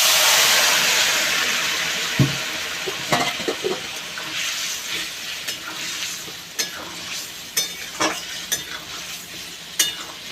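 Spices for a rohu fish and pointed gourd curry are stir-fried in a pan: a fading sizzle under repeated sharp scrapes and knocks of a spatula at an uneven rhythm.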